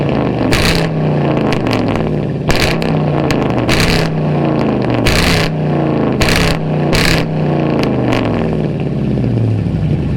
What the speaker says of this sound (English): that thing sounds nasty with that Corsa Extreme exhaust on it